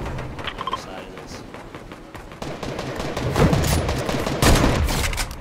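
Bursts of video game gunfire crackle and pop, sparse at first and then thickening into dense volleys with booms, mixed with speech.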